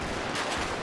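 Gunfire in a first-person shooter game during a one-on-one match, a brief dense burst of shots filling the moment with no talk over it.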